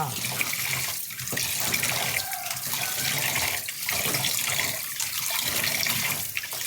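Tap water runs hard while raw liver is rinsed by hand in a kitchen sink, giving a loud, steady gushing with rhythmic dips as the stream is interrupted and splashes against the meat.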